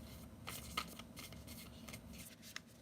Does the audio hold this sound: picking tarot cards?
yes